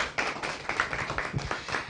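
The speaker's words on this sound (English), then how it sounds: "A round of applause again for Vestergaard." An audience at a water forum claps in a brief round of scattered, uneven applause lasting under two seconds, with no one speaking.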